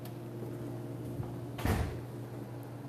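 A house door opens and shuts with a single brief thud and rattle midway, set against a quiet background with a steady low hum.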